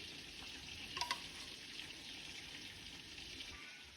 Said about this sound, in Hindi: जब तक हमारा चिकन फ्राई हो रहा है